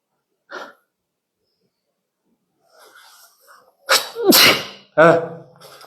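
A single short sneeze, close and fairly loud, followed by a few seconds of quiet, then a person speaking.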